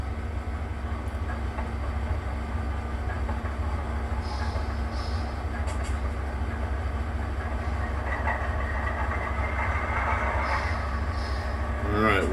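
An HO scale Kato P42 model locomotive's DCC engine sound drones steadily with a low rumble, brief high hisses and clicks over it, building slightly toward the end.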